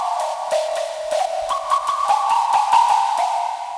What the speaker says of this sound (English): I'm surprised it's a sine wave. It's pretty gritty for a sine wave